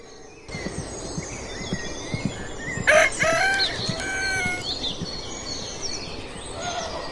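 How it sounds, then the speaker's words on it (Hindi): A rooster crows loudly once in a rural village at dawn, its drawn-out call rising over a steady background of morning ambience and other faint bird sounds. "सुबह सुबह जब मुर्गा बांग देने लगा"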